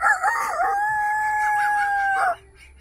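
A man imitates a rooster's crowing call, a single sustained, wavering cry held for about two seconds, loud and close, ending abruptly.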